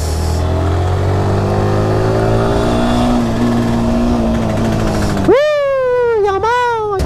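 A Bajaj 220 motorcycle engine drones steadily while riding at night through traffic in Dehradun, then a sharp horn-like rev bursts out near the end, loud and close.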